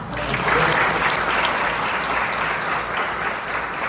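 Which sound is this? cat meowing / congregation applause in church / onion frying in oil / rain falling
congregation applause in church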